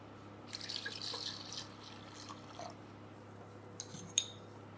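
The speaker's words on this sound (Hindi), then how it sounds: "और इसमें पानी डालते हैं।" Water poured into a pot of jaggery sitting on a gas stove, a soft splashing trickle in the first second or so, then quieter liquid movement with a couple of brief clinks near the end over a steady low hum.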